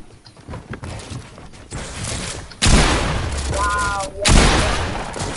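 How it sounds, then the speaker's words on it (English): Video game gunfire, a burst of shots and loud booming blasts that grows louder partway through, with a voice speaking over it. "He's shooting me."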